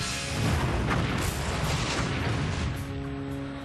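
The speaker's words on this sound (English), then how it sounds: "the F-16s are dropping cluster bombs dangerously close to the men on the ground" Cluster bombs dropped by F-16 jets exploding near troops on the ground in Iraq, a heavy continuous rumbling roar of blasts that swells early and slowly fades, with no speech.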